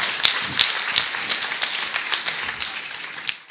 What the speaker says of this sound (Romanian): mulțumesc din suflet pentru aplauze!